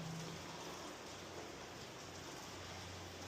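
Steady rain pours down outdoors in Serbia, a continuous broadband hiss of drops with a low background rumble, even and unbroken throughout with no voices.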